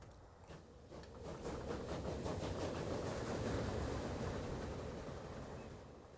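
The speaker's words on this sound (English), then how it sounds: "Alright, so our railway is finally up and running" A train from the Transport Fever 2 simulation game rolls along a railway, heard as a steady, moderately faint rumble that swells slightly and then eases, with soft rhythmic clatter early on.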